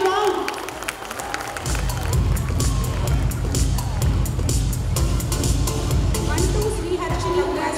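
An audience at a girls' high school annual day celebration breaks into sustained loud applause and cheering, dense clapping rolling steadily after a moment of announcement, with a voice speaking over the crowd.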